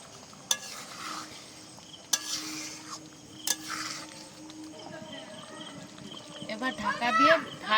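Chicken chaap pieces in gravy being stir-fried in a pan: three sharp clanks of a spoon against the metal, then a low sizzle with scraping and stirring that grows busier toward the end, with voices in the background.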